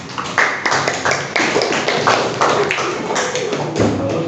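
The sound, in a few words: applause for a student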